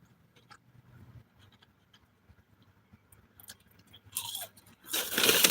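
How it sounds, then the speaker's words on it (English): Crunchy chicken nuggets being chewed close to the mic, with quiet faint noise at first and then loud crackling crunches in two bursts near the end. "And these nuggets have a crunch."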